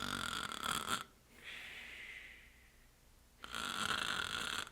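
A voice imitates snoring: a raspy inhaled snore, a quieter wheezy breath, then another loud rough snore, close and intimate.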